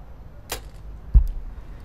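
A compound arrow zips off with a brief airy whoosh and lands in the target about half a second later with a single low, dull thud, in a quiet outdoor tournament setting.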